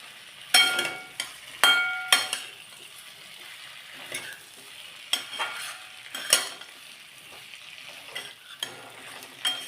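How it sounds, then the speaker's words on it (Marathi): Potatoes sautéed with chili powder and salt for a batata rassa bhaji sizzle in a pan while a spoon scrapes and stirs in irregular bursts, a few louder clinks standing out, with no voices. "आपण पाच मिनटं छान परतून घेऊया तिखटा मिठात"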